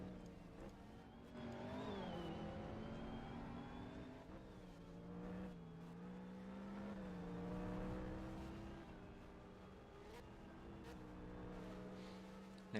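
Race cars, including a GTI, passing on the oval at Vermont International Speedway, engines droning and shifting pitch as they accelerate by at moderate distance, a steady continuous roar with no talk.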